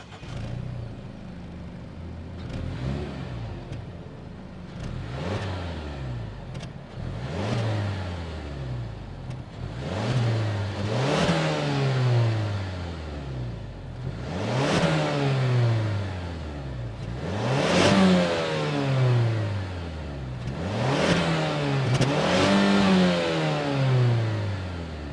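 Mazda CX-50's 2.5-liter turbocharged four-cylinder engine revs repeatedly while stationary, each rise sweeping up then falling back to idle, about eight pulls growing louder and longer.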